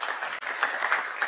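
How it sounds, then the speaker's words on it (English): Audience at a Dubai trade facilitation summit applauds a correct answer, a brief, dense burst of clapping with a momentary dip partway through. "A round of applause for the gentleman there."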